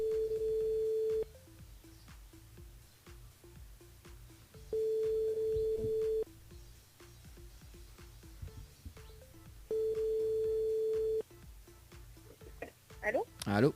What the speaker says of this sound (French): on appelle Magali.